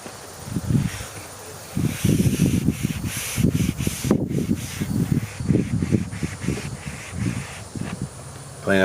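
A Scotch pad scrubs back and forth inside the window channel of a 2014 Chevrolet Silverado 1500 LT crew cab, making steady rhythmic rasping strokes, close and fairly loud, with a brief pause partway through.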